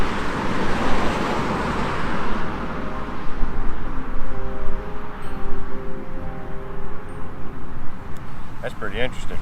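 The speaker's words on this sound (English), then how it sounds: "I don't know how loud these cars are going by" Cars pass on a nearby road in a steady wash of traffic noise, loud and continuous, with a brief rattle near the end.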